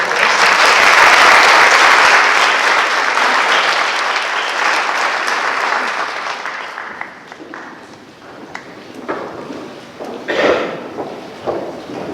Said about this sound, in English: Let's have a round of applause for our seniors.